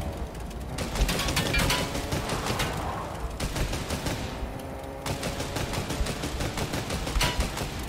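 Rapid gunfire in Fortnite comes in dense, crackling bursts of repeated shots with short pauses between strings, fairly close and steady throughout, with no talking.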